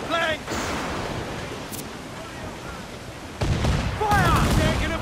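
Naval cannon fire from a pirate ship battle in Assassin's Creed 4 Black Flag, with booming gunfire bursts over ocean waves and wind, heavier toward the end, as game voices shout.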